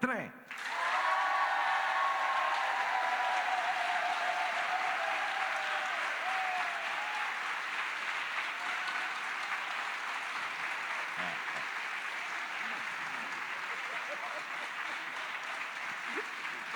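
Concert audience at a Turin arts venue bursts into loud sustained clapping and cheering for a song, a dense even roar of applause that holds steady before slowly easing.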